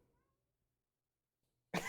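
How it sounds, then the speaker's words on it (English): A house cat meows once, loud and close, in a short burst at the very end after near silence. "That's my cat."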